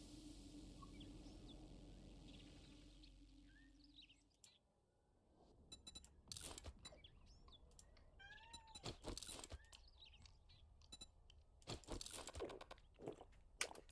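A domestic cat meows repeatedly at close range, short chirping calls spread over several seconds, after a low background hum cuts out, with rustling and clicks between meows.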